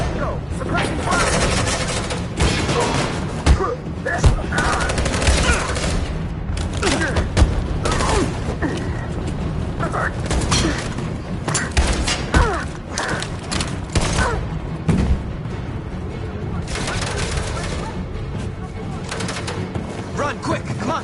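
Dense, continuous gunfire fills a firefight in the video game Detroit Become Human, with booms and thuds layered throughout and shouted voices mixed in.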